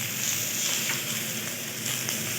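Spices and pieces of pointed gourd sizzle steadily in a hot pan, a continuous bright frying hiss with faint stirring scrapes, close and fairly loud with no talking.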